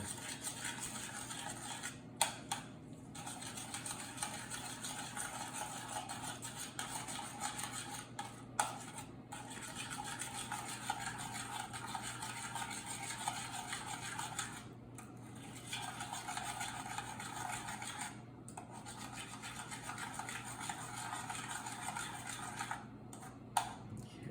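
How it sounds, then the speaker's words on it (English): A butter mixture stirred in a bowl, with continuous soft scraping and occasional light taps of a utensil, close but quiet, broken by a few brief pauses, no talking. "let's stir this together. So we have all of this butter that needs to get ground together."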